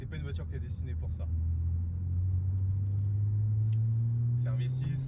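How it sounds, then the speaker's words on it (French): A Mitsubishi Galant V6 sedan drives on a race circuit, its engine a loud, steady low rumble that rises gradually in pitch under acceleration, with a person speaking over it at the start and end. "C'est un V6"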